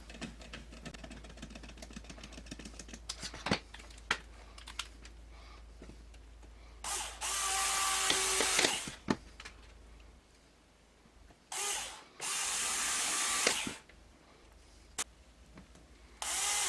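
A power driver sinks long 5/8 screws into the frame of a QL 250 Mini+ quad in two separate loud whirring bursts, each a couple of seconds long, with quiet handling clicks and rustling between them.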